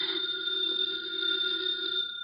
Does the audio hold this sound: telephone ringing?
yes